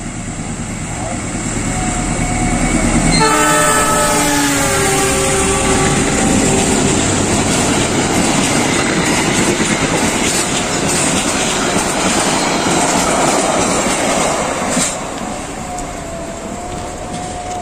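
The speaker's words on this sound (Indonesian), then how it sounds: "kereta api Lodaya melaju dengan cepat menuju ke arah barat" The Lodaya passenger train rushes westward past a small station in Indonesia, close by, a loud steady roar with rhythmic clattering of wheels over rail joints, tapering slightly near the end.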